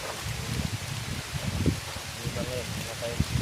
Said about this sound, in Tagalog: lumalakas na yung hangin mga tol. May ulan, parang bagyo to Brad ba?